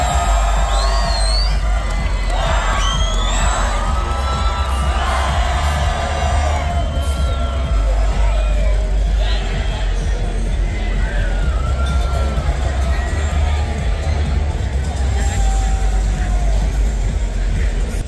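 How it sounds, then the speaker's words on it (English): Spectators at the Long Beach Grand Prix cheer and whoop over a constant roar of engines and street noise, with shrill shouts and whistles cutting through the dense, continuous din. "The crowd is into it"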